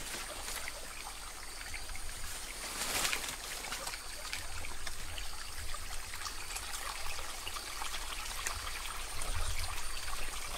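A jungle stream in Malaysia flows and trickles steadily, a close continuous babble of water with brief splashier moments, heard alone without talk.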